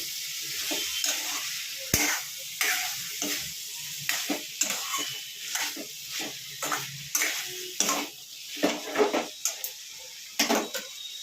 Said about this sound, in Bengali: আবার এটাকে ভালো করে নেড়ে চেড়ে নিতে হবে।